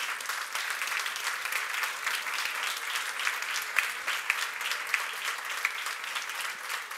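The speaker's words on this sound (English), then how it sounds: "Another applause." Sustained audience applause fills the hall after a tourism panel at a strategic forum, a dense steady patter of many hands with a few sharper claps standing out, no talking over it.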